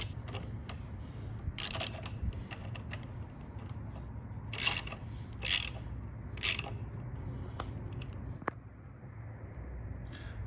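A hex-head bolt is tightened on a Triumph Daytona 660 motorcycle, heard as a few short bursts of rapid ratchet clicking over a low background hum, close up and without talk.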